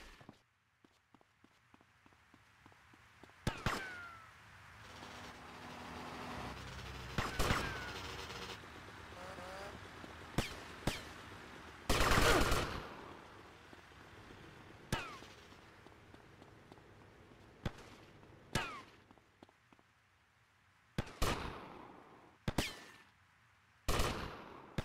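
Gunfire cracks out in Grand Theft Auto: Vice City: scattered sharp shots and brief rapid volleys, some loud and close, spread across a quieter backdrop with footsteps and traffic.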